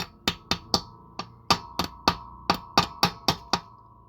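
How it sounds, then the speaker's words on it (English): A hammer chips slag off a fresh weld on rusty Volvo 740 bodywork, about fourteen sharp metallic knocks in an uneven rhythm, close and loud with short ringing decays and no speech. "But now to crack the slag off, watch your eyes."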